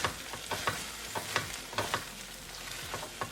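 Pav bhaji mixture being stirred in a pan, with soft repeated spoon scrapes and thick bubbling sizzle at an uneven rhythm, close but fairly quiet, with no talking.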